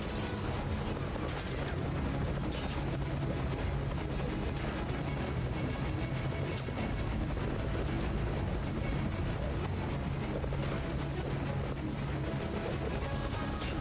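A helicopter in the video game Metal Gear Solid 5: Ground Zeroes roars steadily and loudly throughout, its rotor and engine drone thick and continuous, with faint sharp gunshot-like cracks scattered beneath.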